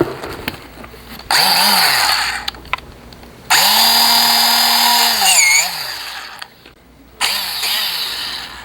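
Loud, close bursts of a small power drill with a small bit boring holes in a turned wooden pepper mill: three whining runs that spin up and wind down, separated by brief pauses and faint handling noises.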